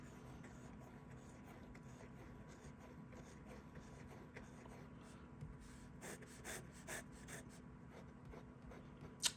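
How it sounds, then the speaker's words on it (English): A Parker 51 Aerometric fountain pen with a slightly oblique nib scratches quietly across paper in a steady, soft, continuous stroke, faint and close, with small scraping bursts toward the end and no talking. "It's writing very nicely indeed."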